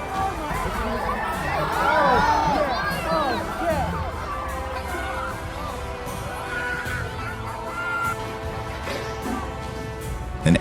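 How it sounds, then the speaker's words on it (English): Crowd at a rodeo screaming and shouting as a bull charges in, a chaotic mix of high shrieks and yells peaking early then settling into agitated chatter, with a voice talking over it. "A rodeo bull suddenly jumped over the fence and charged into the crowd."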